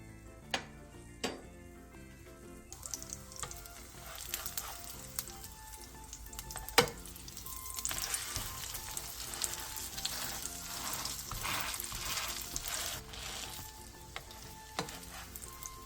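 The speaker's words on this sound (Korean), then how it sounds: "팬에 기름을 두른 뒤 부침가루와 계란물을 골고루 묻힌 햄 단무지 산적을 올려 중약불에서 앞뒤로 노릇노릇하게 부쳐주세요" Ham and pickled radish skewers coated in batter and egg pan-fry in oil over medium-low heat, a steady close sizzle with a few sharp utensil clicks and taps early on and no talking.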